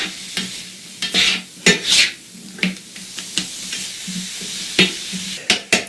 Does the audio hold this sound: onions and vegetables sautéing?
yes